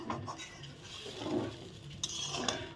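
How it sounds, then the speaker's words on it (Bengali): Masala being stirred and fried in a pan for paneer curry, with soft scraping and clinking of a utensil against the pot, moderately close and steady, no talking. "এখন দেখো মশলা আমি সুন্দর ভালো করে কষিয়ে নিচ্ছি"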